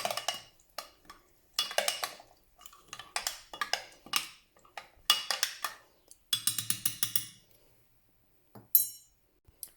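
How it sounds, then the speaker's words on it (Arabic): A spoon stirs baghrir batter made with whole-wheat flour or semolina in a bowl, giving close, repeated bursts of clinking and scraping against the bowl, separated by short pauses, with a quicker rattling run near the end and no talking. "غنحتاج واحد الملعقه باش نحرك"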